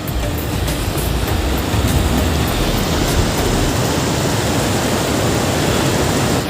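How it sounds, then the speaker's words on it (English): Steady broadband rushing of the Prekchu river flowing close by in the mountains, constant and fairly loud with no other sounds standing out. "You hear the river?"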